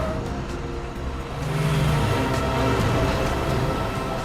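A car engine hums steadily along a road, rising slightly in loudness midway as the vehicle drives on, with no talk over it.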